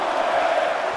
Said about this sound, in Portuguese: A arena inteira está na torcida pela lenda Anderson Silva